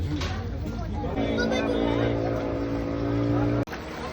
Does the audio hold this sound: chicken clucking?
no